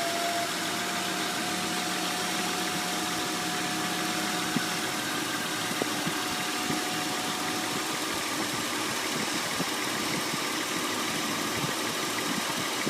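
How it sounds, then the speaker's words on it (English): A 1999-2004 Honda Odyssey engine idling after a transmission cooler install, a steady, even mechanical hum with a faint rhythmic knock, running continuously without revving. "So, vehicle is running."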